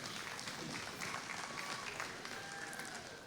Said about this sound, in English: let's recognize all the kids that showed in this division with a round of applause.